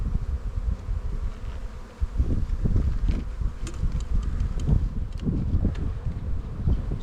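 Honeybees hum continuously around an open hive with a shavings box, a dense, steady buzz with light wind and rustling under it, close to the listener.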